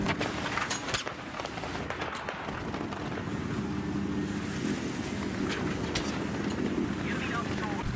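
A scout helicopter in Battlefield 3 keeps up a constant rotor and engine drone, with a few sharp knocks near the start and a voice talking over it.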